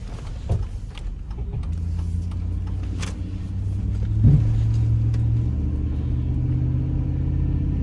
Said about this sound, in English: Going up to a hill now. It's down in first gear.